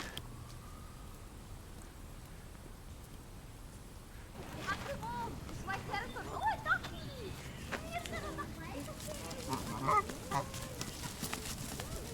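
Geese honk repeatedly at a distance, their calls overlapping in irregular bursts over a low background hum, with faint voices mixed in.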